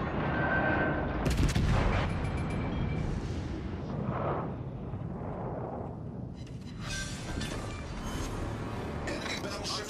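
Heavy salvos from the battleship Mutsu's naval guns in World of Warships boom and rumble loudly, one blast after another over continuous battle noise.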